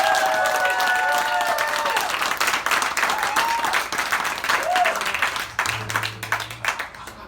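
Audience at a live band show in the Mulino Mill Barn, Oregon, applauding the band with sustained dense clapping and some cheering, while a voice talks over it and a low tone enters near the end.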